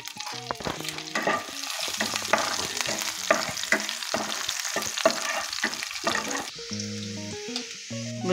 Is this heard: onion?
yes